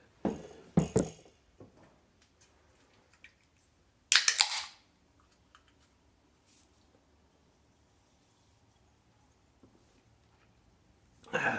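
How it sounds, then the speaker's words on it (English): Suppressed Bergara BMR-X rifle in 22 WMR, a few muffled, sharp cracks spaced apart, with quiet handling clicks and mechanical noises between shots. "what better host than this new BMR-X to be able to run a suppressed 22 mag"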